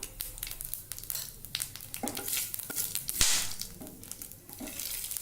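Cumin seeds crackle and sizzle in hot oil for paneer masala, a steady close frying hiss broken by small pops and a brief stir or scrape near the middle, with no one talking.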